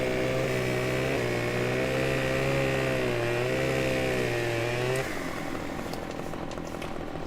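A chainsaw in the video game Farming Simulator 2015 runs loud and steady for about five seconds with a wavering engine pitch, then drops to a lower, rougher idle.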